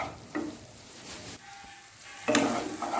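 A ground poppy seed and cashew paste is stirred into prawn malai curry in a pan, giving a soft steady sizzle with a few sharp scraping strokes of a spatula against the pan.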